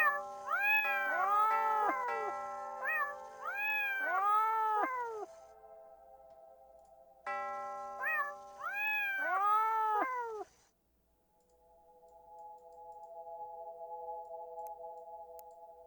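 Cats in the video game Your House let out a rapid run of synthetic, pitch-bending meows, two bursts several seconds long with a pause between, followed by a steady electronic tone; no voices are heard.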